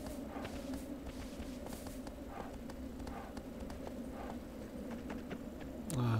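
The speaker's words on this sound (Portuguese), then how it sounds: "o cavalo não vai descer isso aqui" A horse's hooves walk in Shadow of the Colossus video game, a steady, fairly faint clip-clop over constant game ambience, ending with a brief low rumble.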